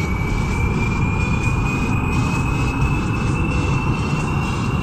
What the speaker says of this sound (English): This is the jet one. Alright, let's throttle up.